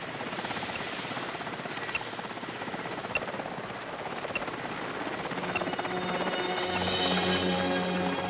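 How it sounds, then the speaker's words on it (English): Steady rhythmic rotor thumping of a helicopter in flight, with a droning engine hum that swells slightly louder toward the end. "The helicopter quickly searches the area"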